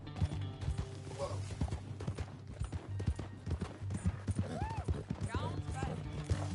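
Horse hooves clip-clop on the ground in Red Dead Redemption 2, with irregular close steps under game voices and a brief horse whinny.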